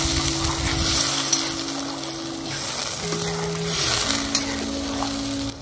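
A pot of food being stirred after three cups of boiling water go in with black pepper and paprika, giving a steady close sizzling, bubbling wash with scraping stir sounds and no talk.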